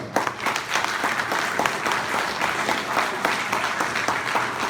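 Audience clapping steadily for fathers at a middle school father-and-son breakfast, a dense, sustained round of applause from a sizable crowd filling the room, with no speech over it.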